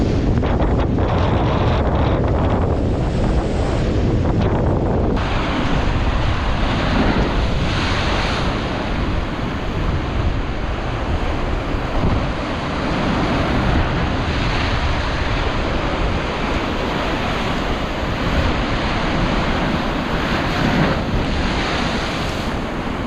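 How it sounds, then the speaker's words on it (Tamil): Strong wind buffets the microphone at Keerimalai pond in Jaffna, Sri Lanka, during a storm, with rough churning water surging and splashing continuously; loud and steady, no voices. "கீரிமலை கேணி சரியான காற்று சரியான கொந்தளிப்பு அப்படியே கிடக்கு"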